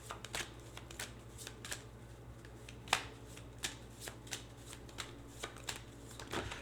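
Tarot cards being shuffled: a quiet, steady riffle of papery flicks and soft slaps, in quick uneven bursts with a few sharper snaps, close by over a low hum, with no voices.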